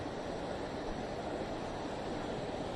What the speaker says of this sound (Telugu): ఒకసారి ఇక్కడ వాటర్ ఫ్లో చూడండి.